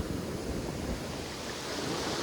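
Monsoon high-tide waves crash and roll along the seashore in a continuous, loud wash of surf with wind, with no individual breakers standing apart.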